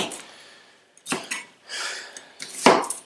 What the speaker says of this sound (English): you just want to chop your onion up